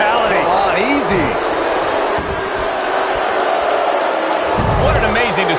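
A wrestling arena crowd in WWE 2K19 keeps up a loud, steady roar of cheering and chanting throughout, with voices talking over it.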